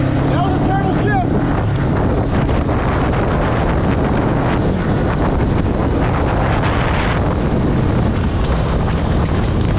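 A 2022 Honda Rebel 500 motorcycle engine runs loud and close through a rough gear shift, its drone blended with heavy wind rush across the microphone while riding.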